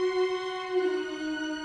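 Soloed string section of violins and cellos playing sustained lines that move in contrary motion, spreading apart and drawing back together, heard alone and moderately loud.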